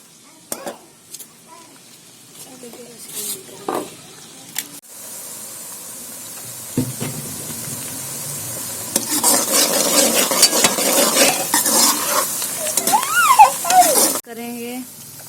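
Two spoons of cooking oil heat in a kadai over a lit flame, with scattered spoon clinks and scrapes at first, then rising sizzling and stirring noise that builds and stops suddenly near the end.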